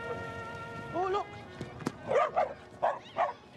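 A dog barks several times in a short run of close, sharp yips while people talk nearby in a domestic room.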